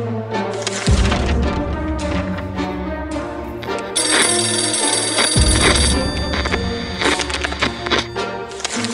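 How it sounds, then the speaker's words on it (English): A street phone booth ringing in the video game 60 Seconds, a loud repeated bell ring that goes on through the whole stretch, with deep booming thuds and a bright tone joining partway through. "However, a phone booth on the street survived the bombing somehow. It seems it's ringing right now."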